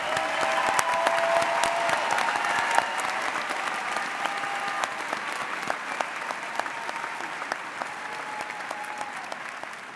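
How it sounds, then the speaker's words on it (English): Sustained applause from a large commencement audience honoring doctoral degree recipients, a thick, even roar of many hands clapping with a few sharper claps poking through, steady throughout. "Please give a round of applause to the doctoral degree recipients."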